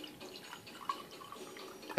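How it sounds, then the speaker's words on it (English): Water dumped out of a small blinking magic trick gag prop, a scatter of close drips and light splashes ending in a louder gush, with no talking. "Dump the water out"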